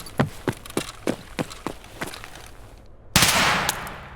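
In Escape From Tarkov, a series of sharp single gunshots crack at a steady rhythm, about ten in quick succession, followed by a brief pause and then a louder, longer burst of noisy blast.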